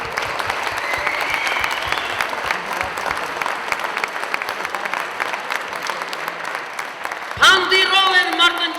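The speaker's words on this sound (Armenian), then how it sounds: "Ծափերի ներքո" An audience at a stage poetry recital breaks into sustained applause, a dense wash of clapping that holds for about seven seconds before a voice comes in over the last moments.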